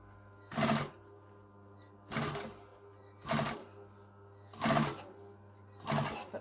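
A domestic sewing machine stitches along a piping edge in five short, evenly spaced bursts of whirring, clattering needle action, close up, with a low steady hum between runs and no talking.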